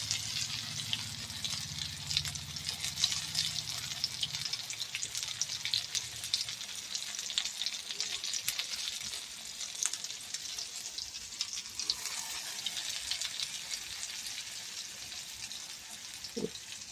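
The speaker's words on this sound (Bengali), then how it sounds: "এই যে ফিশ ফ্রাই এইভাবে করতে হয়। এই যে তেলে ছাড়বো, তেল হয়ে গেছে।" Fish fries in hot oil with a continuous bright hiss and crackle, fairly close and even, running on at length with no talking.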